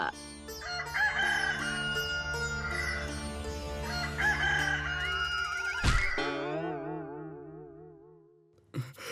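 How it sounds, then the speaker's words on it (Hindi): A rooster crows loudly and at length, its long call rising and then trailing off, over a steady low background tone. "सुबह होकर मुर्गे ने बांग भी दे दी।"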